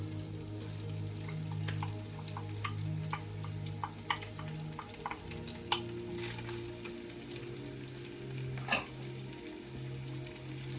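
Onions frying in a pan with rice for Cantonese fried rice give a steady, close sizzle, broken by regular scraping stir clicks and one sharper clatter near the end, over a low background hum with no talking.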